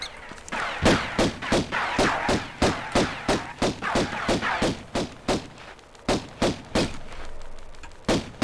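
Rapid bursts of gunfire in Tomb Raider (1996) crack in a steady rhythm, sharp repeated shots with brief pauses, loud and close, no talking.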